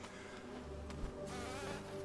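Steady insect-like buzzing from beehive enemies in the video game Hollow Knight, a continuous drone with a couple of brief thumps, no talk.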